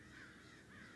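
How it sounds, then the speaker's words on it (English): Crows caw outdoors, faint and distant under a steady wash of background noise, the calls blending into a continuous ambient texture. "Shut up, crows."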